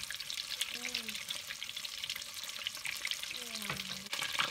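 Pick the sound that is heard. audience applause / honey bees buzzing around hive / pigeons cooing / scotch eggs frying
scotch eggs frying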